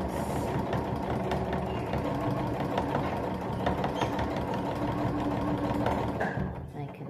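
Sewing machine stitching a cushion runs steadily at a close, even hum with a rapid mechanical chatter, slowing and stopping near the end, while a voice talks over it.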